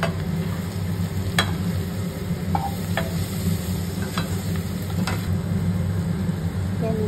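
Chunks of jackfruit fry in a pan with a steady, close sizzle, punctuated by occasional scrapes and clicks of stirring, while a faint hum runs underneath.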